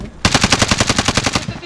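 A rapid, evenly spaced burst of automatic gunfire in Warzone, about a dozen close, loud shots in a steady rhythm that trail off at the end.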